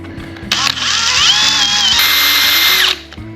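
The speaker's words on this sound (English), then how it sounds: "I'm going to take a drill bit, which is just about the same size as that shaft, and I'm going to put a hole through the bottom of this egg" A power drill whines loudly and steadily for about two and a half seconds as the bit bores a hole through the bottom of a lead egg sinker, the pitch wavering slightly under load before cutting off.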